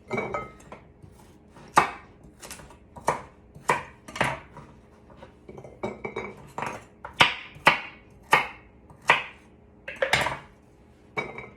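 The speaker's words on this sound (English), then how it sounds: "I'm gonna just kind of cut them in a little bit bigger rounds" A knife chops celery stalks into rounds on a cutting board for pot roast, giving a steady series of sharp, close knocks, about one or two per second, with no talk.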